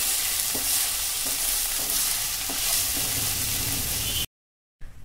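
Finely crushed garlic stirred and fried in a pan for masala vegetable pasta, a dense loud sizzle with soft rhythmic stirring strokes, cut off by a brief silence near the end.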